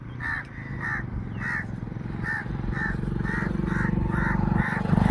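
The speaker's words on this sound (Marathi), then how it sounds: "हे कावळे रोज जसं मी पुढं पुढं जाईन तसं तसं माझ्या पाठीमागं येते." Crows cawing in repeated short calls, about a dozen evenly spaced caws near and fairly loud, over a steady low engine-like rumble of traffic or a motor.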